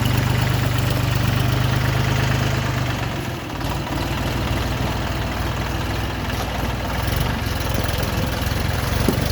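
A heavy tractor engine idles steadily with a loud, low rumbling drone and rhythmic knocking, close by and continuous throughout.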